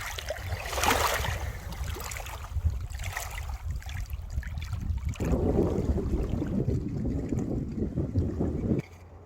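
Water laps and splashes at a lakeside campsite, a steady close wash of noise that swells louder in the second half before dropping off sharply near the end, with wind buffeting the microphone.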